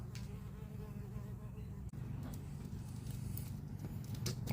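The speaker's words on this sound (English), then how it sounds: "We've got a little bee friend." Bee buzzing close by at a window during old window glass removal, a steady droning hum that holds throughout with a brief dropout partway.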